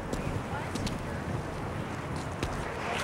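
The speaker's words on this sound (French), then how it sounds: "C'est le vent du printemps" Spring wind at an outdoor demolition and salvage site, a steady broadband roar buffeting the microphone for the whole clip, fairly loud and unbroken, with faint rustles on top.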